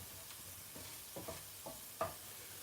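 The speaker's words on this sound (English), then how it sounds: "So that's going to sizzle away." Quiet, steady sizzling of vegetables such as cauliflower and carrots in a pan for biryani, with a few soft stirring scrapes and clinks scattered through.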